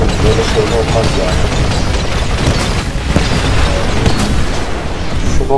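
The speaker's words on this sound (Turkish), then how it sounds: "Şu roket silahı güzelmiş" Rocket weapon blasts in the video game Titanfall, loud dense booms and bursts layered in constant chaotic combat noise.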